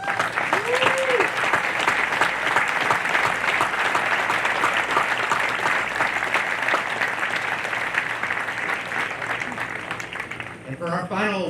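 Sustained, dense applause from an audience at the Nuclear Power School Class 2104 graduation ceremony, honoring the Personal Excellence awardees, steady and loud for the whole stretch before tapering slightly at the very end.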